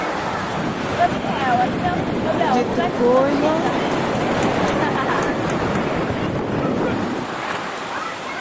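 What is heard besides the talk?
sea waves breaking on the shore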